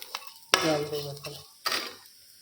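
Onions frying in a pan with oil make short bursts of sizzle between quieter gaps, mixed with a few clinks of a utensil.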